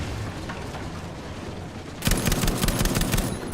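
Gunfire from the game Battlefield V: steady game ambience, then from about two seconds a loud, rapid burst of shots rattling on continuously to the end.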